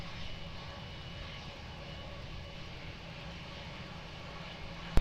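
Airplane engines at Lisbon Airport, a steady distant roar holding at an even level for the whole stretch, with a brief sharp knock at the very end.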